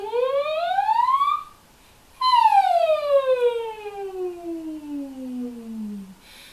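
A singer's voice imitates a siren in a vocal exercise, rising smoothly to a high pitch, breaking off briefly, then gliding steadily down in one long, loud sweep.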